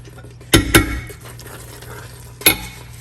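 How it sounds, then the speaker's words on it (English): Beef being tipped back into a simmering meat pie filling, with a few sharp scraping clatters of a utensil against the pot, spaced apart over a low bubbling background. "Now we're gonna add the beef back to the mix."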